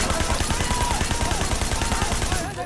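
Sustained automatic gunfire rattles in the Sleeping Dogs video game, a loud rapid machine-gun stream that continues almost without break before cutting off near the end.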